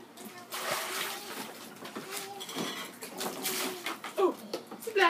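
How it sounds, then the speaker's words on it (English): Children playing with a bucket of water outdoors, making scattered splashes and pours mixed with clinks of containers, fairly quiet and uneven, with voices talking in the background. "Splash. Splash."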